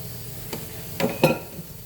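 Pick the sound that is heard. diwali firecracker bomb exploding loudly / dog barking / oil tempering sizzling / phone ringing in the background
oil tempering sizzling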